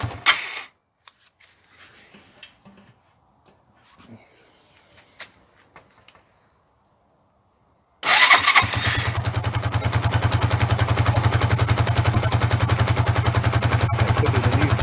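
A Suzuki GN125 motorcycle with a freshly refitted carburettor catches after a few quiet cranking attempts, then settles into a loud, steady, thumping single-cylinder idle that runs alone for several seconds.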